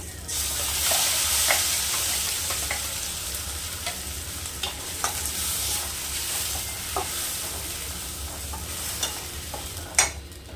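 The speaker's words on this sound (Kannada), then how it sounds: "ಇವಾಗ ರುಬ್ಬಿರೋಂಥ ಮಸಾಲೆ ಎಲ್ಲ ಹಾಕ್ತಿದ್ದೀನಿ." Freshly ground wet masala fries in a hot pan of onion tempering, hissing steadily while a spoon stirs and taps the pan now and then, with a sharper clack near the end.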